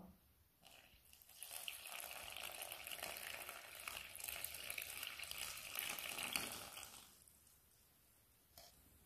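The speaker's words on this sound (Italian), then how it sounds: "Ed ora aggiungiamo l'acqua." Water pours steadily into a mixture being whisked for an Italian aperitivo snack, giving a continuous hissing wash that rises, holds for several seconds and then stops.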